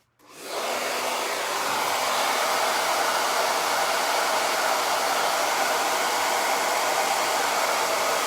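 A hair dryer blows steadily on wet paint, starting abruptly and holding a loud, constant broadband whoosh with no pauses and no voices.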